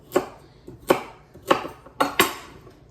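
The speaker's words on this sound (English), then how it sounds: "we're gonna just cut off the ends here just a little bit, and just cut them into small pieces" A knife chops carrots into small pieces on a cutting board for homemade carrot soup, giving five sharp, evenly spaced thunks about half a second apart, close and clear with nothing else heard.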